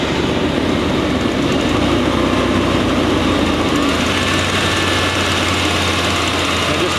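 A shop truck's engine idles smoothly and steadily, a loud, constant rumble heard close up with no talk over it.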